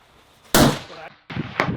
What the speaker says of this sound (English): we thought it would be a good idea to sight in Mitchell's rifle